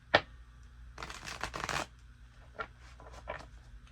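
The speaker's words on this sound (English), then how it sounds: "One more shuffle, guys." Tarot cards being shuffled up close: a sharp snap, then a longer riffling burst, followed by a few lighter flicks and taps.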